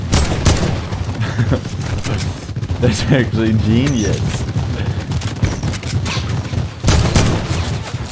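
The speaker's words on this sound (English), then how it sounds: "Oh, they're fireworks." Fireworks burst in a Fortnite match, a rapid series of loud cracks and booms with whistling rising bursts in the middle, while a player talks briefly over the noise.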